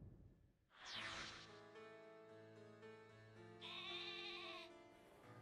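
Synthesized sheep bleats in Pokémon Shield ring out clearly, a long wavering bleat followed by another higher one, over quiet game music.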